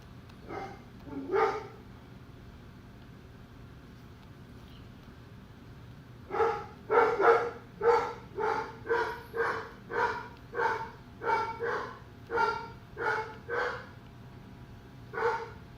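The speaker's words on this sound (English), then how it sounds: "this dog don't shut up" A dog barks insistently nearby, two barks, a pause, then a long run of a dozen or more rhythmic barks over a low steady hum.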